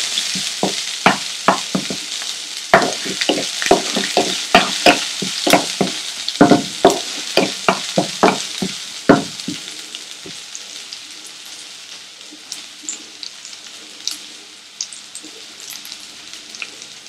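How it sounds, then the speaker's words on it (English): Spring onions crackle and sizzle in a hot pan, with sharp pops and spatters scattered over a soft hiss, busier at first then thinning out. "Now that these have begun sizzling"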